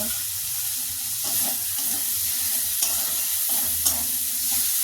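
Tomatoes frying in a pan of spices give a continuous loud sizzle, with occasional spatula strokes and light clinks against the pan throughout.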